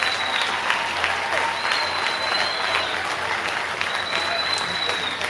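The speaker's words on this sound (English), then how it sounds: "Eflin's going to come off the mound to a rousing standing ovation from the Reading crowd" A minor league baseball crowd in Reading gives a pitcher leaving the mound a standing ovation. Loud, sustained clapping and cheering fill the ballpark, with a few whistles cutting through the roar.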